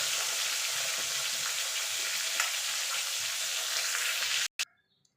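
Koi fish fry in hot oil in a kadai, a loud, steady, close sizzle that runs without a break before cutting off abruptly near the end.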